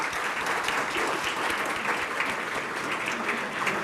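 A packed hall at a college induction programme claps continuously, a dense, even wash of hands that holds at full strength throughout with no talking over it.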